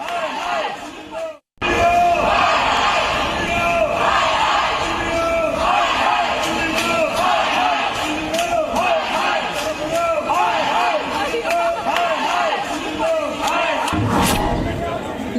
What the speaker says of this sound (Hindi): इंडिगो हाय हाय के नारे लगने लगे।